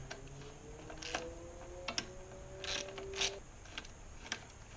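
A ratchet fitted with a 10mm socket turns a kick starter screw, clicking in short uneven bursts with faint metallic creaks, close and moderately loud, with no voices.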